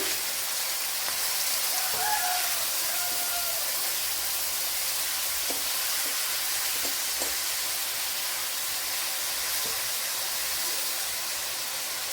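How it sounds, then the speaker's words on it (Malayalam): Prawns fry in a pan for biryani with a steady, close, hissing sizzle that holds throughout, along with a few faint stirring clicks and scrapes and a brief murmur near the start. "ഇനി ഇതിലേക്ക് ഇതിനെ ഇട്ട് കൊടുത്തൊന്ന് ഫ്രൈ ചെയ്തെടുക്കണം"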